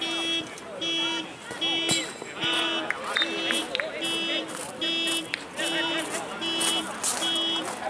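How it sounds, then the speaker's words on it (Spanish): Car alarm sounding near a football match, a regular repeating beep-and-warble cycle at steady volume, with people talking and shouting over it. "Qué paja que te suene la alarma"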